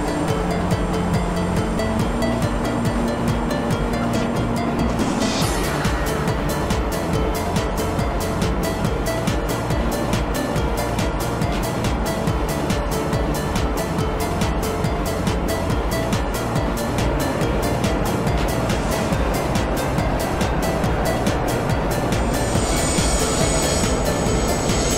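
Simulated train running on a line in the OpenBVE train simulator, a C7231X on the Habourvale Line: loud steady rolling rumble with a rapid regular wheel clatter throughout and brief squeals near the start and end.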